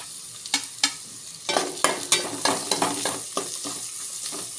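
Onion and green chillies frying for a fish curry, stirred with a quick run of sharp scraping strokes against the pan over a light sizzle, rhythmic and close, with no speech.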